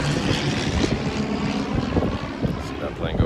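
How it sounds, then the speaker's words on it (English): A propeller airplane drones overhead, its engine hum swelling and easing as it passes, fairly loud and continuous, with people talking nearby underneath it. "See that plane go by."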